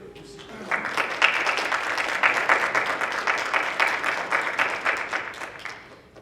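An audience at a school academic bowl competition breaks into applause, a dense, steady patter of many hands that builds quickly, holds for several seconds and fades at the end.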